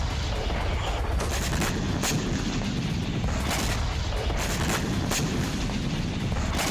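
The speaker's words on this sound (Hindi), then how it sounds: "यूक्रेन की पोर्ट सिटी में रूस ने ब्लैक सी से एक के बाद एक कई मिसाइलें दागी।" Russian missiles launched from the Black Sea strike the Ukrainian port city of Odesa, hitting a weapons depot. A dense, loud, continuous rumble is broken by repeated sharp booms, with no talking.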